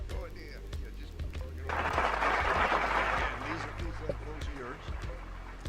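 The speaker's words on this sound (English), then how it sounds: "Give him a nice round of applause." Applause and cheering from a radio morning-show crowd welcoming a guest into the studio, a broad burst of clapping that swells and then fades as people keep talking over it.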